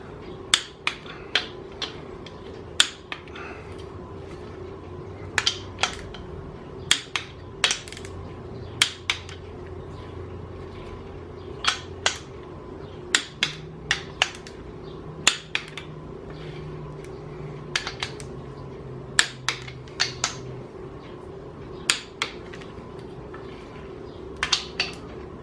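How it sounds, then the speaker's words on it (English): A torque wrench tightening the crankshaft main bearing bolts to 65 foot-pounds on a 1968 Chevy Malibu Wagon engine rebuild: scattered sharp metallic clicks, often in pairs, over a steady low hum. "So we're going to reset our wrench for 65 and do our final torque."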